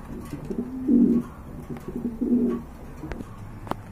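Two low, rounded pigeon coos, each a soft throaty burst, sound close by with quieter cooing and faint bird rustles in between.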